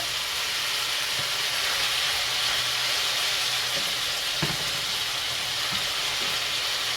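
Steady, loud sizzling of sausage frying in a pan, a constant crackling hiss with a few soft clinks of utensils.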